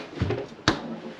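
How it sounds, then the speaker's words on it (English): A domestic fridge door swings open in a workshop, giving a soft thud followed by a sharp click or knock, two brief close sounds. "That was the door opening."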